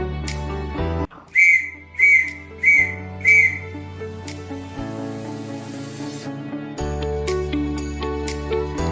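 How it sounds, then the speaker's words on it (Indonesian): Four quick whistled dots in steady rhythm sound out the Morse letter H, followed by background music carrying on alone. "Kemudian bunyi huruf H."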